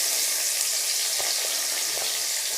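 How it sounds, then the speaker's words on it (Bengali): Onions sizzle in hot oil in a karahi for a pangas catfish curry, a steady close hiss with a few soft crackles and no talking. "এরপর আমি এতে দিচ্ছি পেঁয়াজ।"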